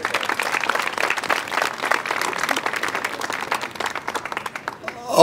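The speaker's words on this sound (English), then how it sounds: "let's give them a round of applause again" Crowd at an outdoor zoo reopening event applauds with dense, continuous clapping that gradually thins out toward the end, with some voices mixed in.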